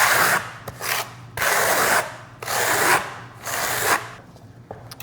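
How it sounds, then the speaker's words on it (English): Steel trowel dragged firmly across a SkimStone coating on a concrete veneer countertop, four long scraping passes with brief gaps between them, close and fairly loud, no speech. "you actually are putting some strength behind the trowel to get it smooth"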